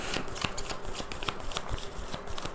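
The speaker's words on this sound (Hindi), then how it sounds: "मैं सारे कार्ड्स निकाल लेती हूँ" Tarot cards being drawn and shuffled by hand, a dense run of crisp flicks and riffles, close and fairly quiet, with no talking.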